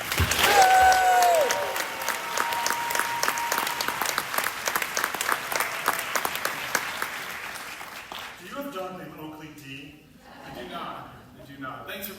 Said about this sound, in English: Let's give a big round of applause for our next storyteller,